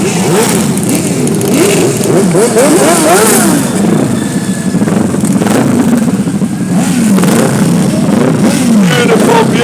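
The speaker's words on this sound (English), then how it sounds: "Beautiful, beautiful motorcycles as they pass our commentary position" Motorcycles passing in an airshow parade in Nelspruit, loud engines revving and accelerating one after another close by, rising and falling pitches overlapping in a continuous roar with crowd noise beneath.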